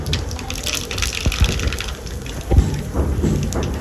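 Black cumin seeds and dried chillies hit hot oil in a kadai, giving a close, continuous crackling sizzle with small pops.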